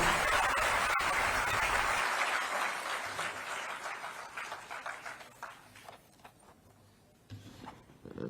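An audience at a meritorious students' award ceremony in Lucknow applauds, dense clapping that starts strong and gradually thins out and fades, then briefly picks up again near the end.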